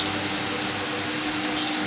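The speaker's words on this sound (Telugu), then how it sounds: "2 గ్లాసులు అయితే వాటర్ తీసుకుంటున్నానండి" Water pours from a glass in a short, steady liquid gush, close and moderately loud, with no talk.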